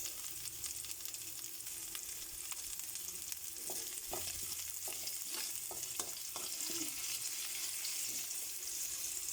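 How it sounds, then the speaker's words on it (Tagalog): Garlic and onion sautéing for squid adobo give a faint, steady sizzle throughout, with a run of light clicks and scrapes from stirring in the middle, heard from a little distance. "Magigisa na po tayo ng para sa adobong pusit."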